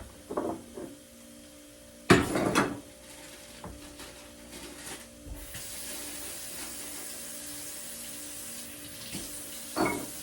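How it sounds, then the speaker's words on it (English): Baby carrots rinsed under a running kitchen tap for a stew, a soft steady stream of water into a sink with a louder splashing burst early on and a few faint clunks, quiet overall. "I have some baby carrots, so I'm going to rinse them off."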